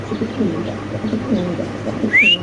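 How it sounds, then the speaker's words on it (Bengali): A pair of young deshi pigeons held at a bird market give low, soft cooing calls in short rounded bursts close by, with a faint high chirp near the end over light background murmur. "হাতে আছে একজোড়া কবুতর একদম নতুন কালেকশন"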